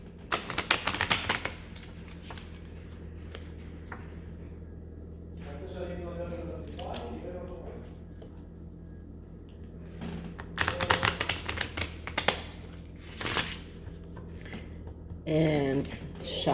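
Oracle cards are shuffled in repeated crisp riffling bursts, with stretches of soft handling noise and a low steady hum underneath.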